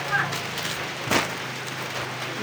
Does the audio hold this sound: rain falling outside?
yes